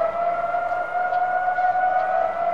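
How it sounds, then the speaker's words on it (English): A steady, sustained siren wail holding a constant pitch, loud and continuous with no voices, like a civil defense warning siren sounding. "You hear the air raid sirens."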